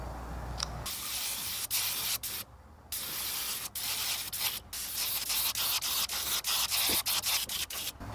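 Spray painting a walleye crankbait lure body in a workshop: close airbrush-style hissing bursts that start and stop repeatedly, with short pauses between passes and no talking.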